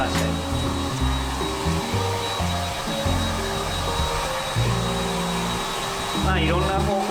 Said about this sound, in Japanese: いろんな方向から風を当てて、あんまりなんか癖を強制しないような感じで乾かしたい